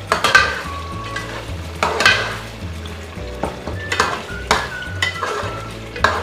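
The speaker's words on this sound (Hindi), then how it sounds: "बस अब इसकी हम करेंगे भुनाई अच्छी तरह से।" Tender chicken being stir-fried (bhunai) in a pot for Lahore-style murgh chanay: a steady sizzle broken by repeated scraping spoon strokes against the metal, close and moderately loud.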